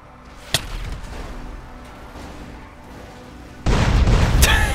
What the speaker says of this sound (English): This guy's gonna get sticky bombed.